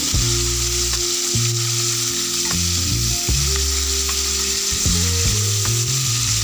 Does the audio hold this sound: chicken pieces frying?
yes